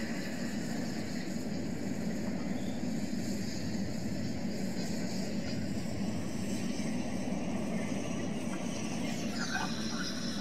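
A steady, unbroken engine drone from a plane in the Roblox flying game Aeronautica, a Soviet Concorde-style jet, holding a constant loud hum with a brief tonal shift near the end and no talking.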